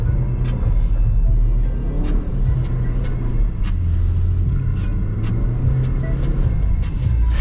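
A tuned all-wheel-drive Porsche making over 300 horsepower drifts through deep snow. Its engine holds a loud, close, continuous growl and rumble throughout, with no speech over it.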